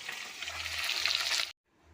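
Satin fish fries in oil with a dense, close crackling sizzle that holds steady, then cuts off abruptly into silence.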